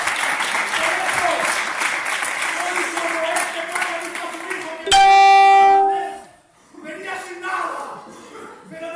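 A Spanish Gitano congregation claps loudly in worship in church, with voices among them, until a loud sustained horn-like tone cuts in midway and the clapping fades.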